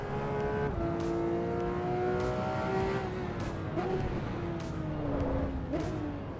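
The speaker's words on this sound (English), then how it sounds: "we're driving a Porsche today, which is rare" Porsche engine in the racing game Assetto Corsa Evo, droning steadily with rising and falling pitch as it works through gear shifts, loud and continuous throughout.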